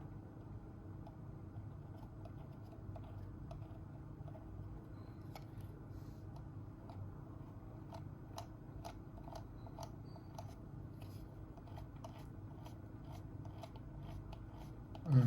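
Faint, rapid ticking of a Microsoft Ocean Plastic mouse scroll wheel in irregular bursts over a low, steady background hum.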